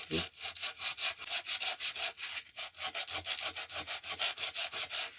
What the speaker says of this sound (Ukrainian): беремо наждачечку, обичну просто.